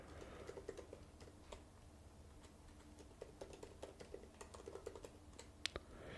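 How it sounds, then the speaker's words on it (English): Steady typing on a computer keyboard, a soft continuous patter of key taps with a few sharper clicks, quiet and close in a still room. "Let me just type that and show you guys on the screen"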